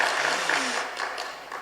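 A church congregation gives a pastor warm applause, a brief, even wash of many hands clapping.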